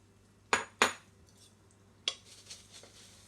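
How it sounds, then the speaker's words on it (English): Coconut stirred into a chocolate crackle mix in a bowl: two quick close clinks of a utensil against the bowl, a pause, then another clink followed by soft scraping, quiet and without talk. "we're going to add the kofa in and just stir it until it's all combined"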